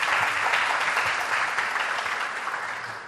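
A room full of people at a school debate tournament applauds the students, steady dense clapping that holds at full strength throughout before easing slightly at the end.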